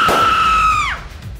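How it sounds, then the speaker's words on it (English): One loud, drawn-out burp-like tone holds steady for nearly a second, then bends downward and cuts off. It is close and sounds on its own. "Number 8. Loudest burp."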